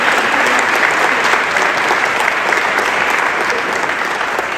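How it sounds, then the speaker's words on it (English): A crowd applauding steadily at a Providence schools policy event, dense clapping from many hands that stays loud and even throughout. "So if I could have a round of applause for all the policymakers."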